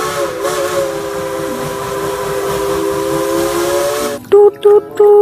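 A toy Thomas train whistle holds a steady steam-train style note for about four seconds, then three short sharp toots follow in quick succession.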